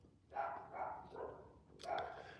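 Several dogs bark outdoors at a distance, four or five rough barks in an uneven rhythm, fairly faint against a quiet background.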